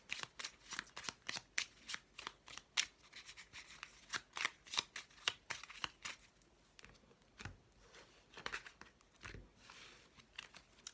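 Tarot cards are shuffled close to the microphone, giving a quick series of crisp riffling and slapping bursts in an irregular rhythm, fairly quiet and without speech.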